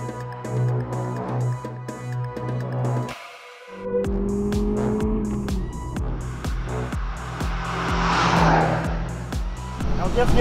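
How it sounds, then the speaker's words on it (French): A 2017 Honda Civic Type R laps the Lausitzring circuit in eastern Germany, engine notes climbing through gear changes with a brief cut, loud in-car drive with tire noise, while someone talks over it. "Bienvenue à bord de la Civic Type R sur le circuit du Lausitzring dans l'est de l'Allemagne."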